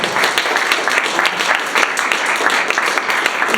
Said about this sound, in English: Another round of applause for Sophie, please.